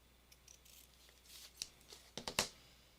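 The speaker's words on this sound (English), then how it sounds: "Let's see if we can just cut out this chunk right here." Scissors cutting a chunk out of a piece of crafting material: several crisp snips, close and fairly quiet, growing sharper and quicker toward the end, with no talking.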